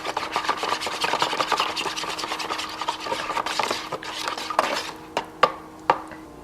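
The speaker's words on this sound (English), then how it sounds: "Just keep stirring it." Homemade fish bait being stirred in a pot, a steady scraping and rubbing that fills most of the stretch before thinning into a few separate sharp clinks and knocks near the end.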